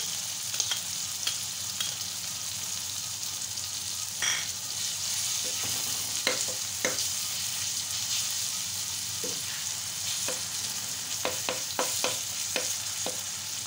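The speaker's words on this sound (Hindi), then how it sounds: "अब हम इसमें अदरक और लहसुन का पेस्ट डाल देंगे" Ginger garlic paste fries in masala for beef chaska boti, producing a continuous close sizzle with scattered sharp spatula taps and stirring clicks, and no voices.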